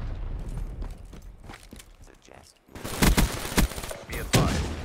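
Gunfire in the video game Call of Duty: Black Ops 3, a burst of rapid, loud shots in the second half following quieter game noise, with voices audible during the match.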